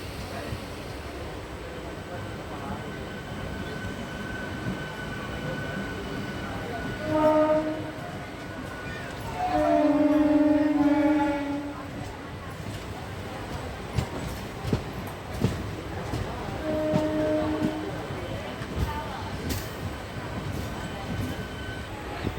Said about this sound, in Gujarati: આ મેમુ ટ્રેન આણંદ ખંભાતવાળી.